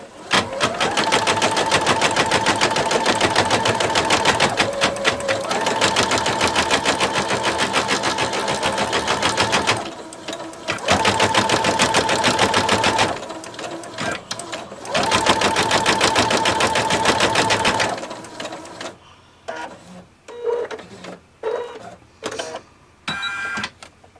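A single-needle embroidery machine stitches a design onto toilet paper with a loud, rapid mechanical chatter. It runs steadily, pauses briefly, then resumes and ends in short stop-start bursts.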